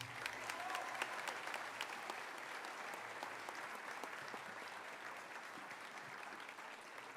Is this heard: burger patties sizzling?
no